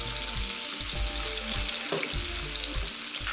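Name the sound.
bacon frying on a Blackstone electric griddle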